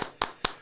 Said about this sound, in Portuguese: Aqui uma salva de palmas para Edson Boaventura.